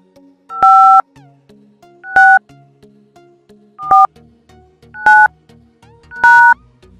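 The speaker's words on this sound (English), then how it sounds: "open our dialer and we will type here the hidden apps passcode." Five sharp keypad tones from a phone dialer as a passcode is typed, each a clear, loud beep, spaced roughly a second apart.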